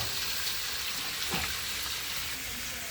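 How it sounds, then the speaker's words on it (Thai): Catfish pieces dropped into hot curry paste sizzle steadily in the pan, a continuous dense frying hiss with a brief louder splash near the middle, close and alone without talk. "เอาปลาดุกใส่เลยครับ นี่เลย ใส่ลงไปเลยครับ"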